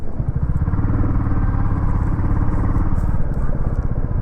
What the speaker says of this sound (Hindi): my bike is running very smoothly